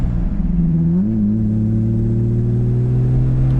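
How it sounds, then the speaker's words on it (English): A 1960 Jaguar XK150-S with a 3.8-litre engine and five-speed gearbox cruises in fifth gear at about 65 mph and 2200 rpm, giving a steady, loud, low drone with one brief pitch shift early on. "Moving along 65 miles an hour in 5th gear, engine spinning 2200 RPM."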